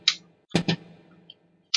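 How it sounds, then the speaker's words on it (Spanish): Popcorn popping effect in a microwave-themed music track: a few sharp, isolated pops and clicks, irregularly spaced with quiet gaps between them. "Esto es un sonido de palomitas."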